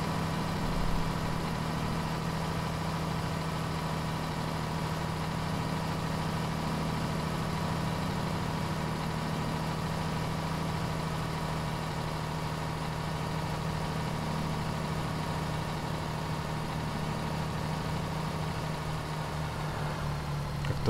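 A steady, droning Setra S215 SL bus engine in OMSI 2 hums continuously at a constant pitch at top speed, unchanging throughout with no voices.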